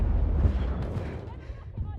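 Gunfire in a first-person shooter, heavy booming shots with a rumbling low end, near and loud, with speech-like sounds present in the mix.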